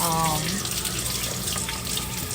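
Tap water runs steadily into a kitchen sink to fill a baby's bath, a continuous close gush with a brief voice at the start.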